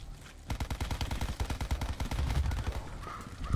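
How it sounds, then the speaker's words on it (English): Rapid automatic gunfire from Call of Duty Zombies, a loud, dense burst of shots in quick succession lasting a few seconds, close and dominant with little else in the mix. "This gun is not killing"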